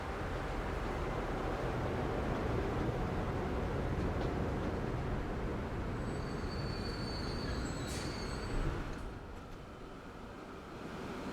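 A train in the game Transport Fever 2 rumbles steadily with low rolling noise and brief high wheel squeals near the end, then fades slightly as it moves off.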